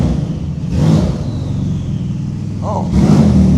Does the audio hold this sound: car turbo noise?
yes